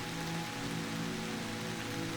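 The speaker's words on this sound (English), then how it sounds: "hearing that pitter-patter of rain on the roof above" Rain patters steadily on a roof, an even, close hiss of drops with a soft low hum beneath and no breaks.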